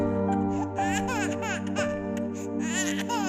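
Eerie baby laughter used as a sound effect in an Indonesian horror story about an aborted baby, giggles repeating over a sustained droning musical bed, loud and continuous throughout.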